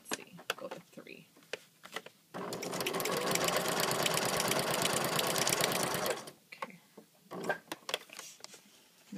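A sewing machine stitches through paper at a longer stitch length of 3, running steadily for about four seconds with a fast, even mechanical rattle, framed by someone talking before and after.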